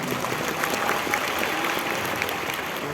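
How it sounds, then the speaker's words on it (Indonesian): An audience applauding for guest speaker Jamil Azaini at a motivational talk, dense steady clapping filling the room throughout. "Kasih aplaus dulu untuk beliau"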